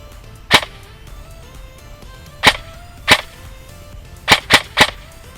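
An SSR15 spring-powered airsoft gun fires six times as the trigger releases the spring, each a sharp, loud, close snap, spaced irregularly with three quick shots near the end.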